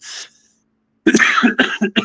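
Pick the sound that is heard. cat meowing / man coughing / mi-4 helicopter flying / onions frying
man coughing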